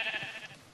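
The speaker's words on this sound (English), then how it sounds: "I'm just gonna have to dispose of the sheep population here." A sheep in the video game Minecraft lets out a single short, wavering bleat, close and clear, with no other sounds around it.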